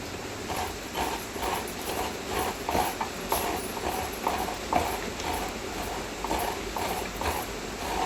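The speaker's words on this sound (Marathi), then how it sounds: "तोपर्यंत मी खोबरं किसून घेते" Fresh coconut is grated by hand in a Konkan home kitchen, giving a steady, rhythmic scraping that repeats in quick regular strokes at close range for the whole stretch, with no talking.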